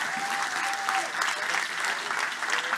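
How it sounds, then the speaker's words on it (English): Steady, dense applause from an audience fills the room throughout, a continuous wash of many hands clapping at an official human rights forum opening in a large venue. "Give them a big applause."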